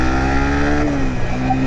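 A Suzuki Gixxer motorcycle engine revs steadily and loudly up close, its rough, even drone holding pitch with small dips and rises in throttle.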